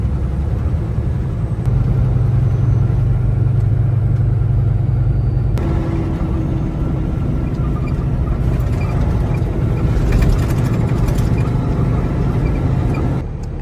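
Truck engine labouring uphill on a highway toward Alaska after a downshift, a loud, close, steady low rumble with a droning tone that shifts pitch partway through.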